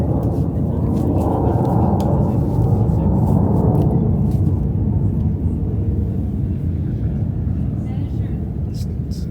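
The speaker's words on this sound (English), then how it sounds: "Some aeronautical maneuvers kind of going on here." A propeller airplane drones overhead at an outdoor tennis match, its steady broadband rumble holding loud and continuous throughout with a slight swell mid-clip as it performs aerial maneuvers, while crowd and commentary murmur underneath.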